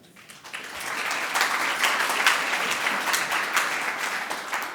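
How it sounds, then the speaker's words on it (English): An event audience breaks into applause, a crowd of hands clapping that swells quickly after a quiet start and holds steady and strong to the end. "Round of applause for Greg."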